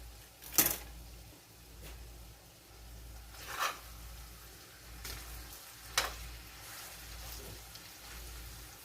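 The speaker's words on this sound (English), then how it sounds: "let's give it a little stir." Ground meat and chorizo sizzle quietly in a pan for a baked rigatoni dish, with a few sharp scraping strokes of stirring breaking through the low, steady frying.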